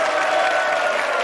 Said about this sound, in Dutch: Ja, u mag blijven klappen.